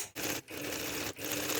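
A sewing machine stitches a seam on a prototype shoe upper, running in short close bursts of rapid rattling with brief pauses between runs; no voices.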